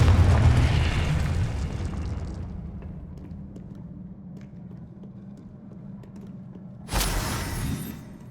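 A Confringo blasting spell in Hogwarts Legacy explodes with a loud boom that rumbles and fades over a few seconds, followed by a steady low hum and a second sharp burst near the end; no voices.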